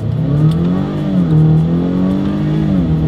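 A 2023 Acura RDX in sport mode pulls hard from a standstill, its engine rising loud and close through steady rising pitch sweeps with a brief dip between gears, no talking.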